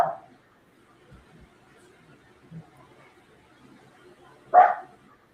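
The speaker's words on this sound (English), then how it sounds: "What's he barking at?" Dog barking outdoors: a single sharp bark at the start and another louder bark near the end, with faint background chatter and quiet stretches between.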